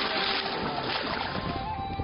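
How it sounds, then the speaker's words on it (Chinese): A small fishing boat heading home across the water makes a continuous churning, motor-like drone with water splashing along the hull, steady and fairly close. "小船往湾河村的家驶去"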